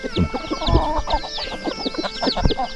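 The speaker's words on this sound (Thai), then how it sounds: "เลี้ยงไก่ เลี้ยงหมู" Chickens cluck repeatedly around a remote hillside farmhouse where pigs are also kept, with other birds chirping high overhead; the fowl sound close and steady, with no talk.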